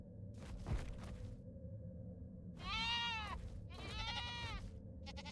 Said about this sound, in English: my sheep is telling me there's a max level wild dino nearby